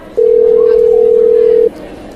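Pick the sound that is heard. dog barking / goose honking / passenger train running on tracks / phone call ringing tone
phone call ringing tone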